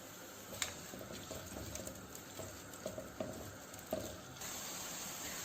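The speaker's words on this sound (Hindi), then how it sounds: "और इसको अब प्याज को हम मीडियम ब्राउन होने तक पकाएंगे।" Chopped onion frying in a pan toward medium brown, a faint steady sizzle with soft pattering pops and light stirring scrapes throughout.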